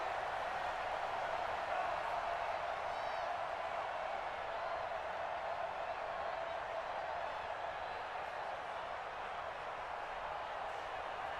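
A stadium crowd in the video game Madden NFL 20 roars in a steady, broad wash of cheering and applause, sustained and even, heard at a distance under light commentary.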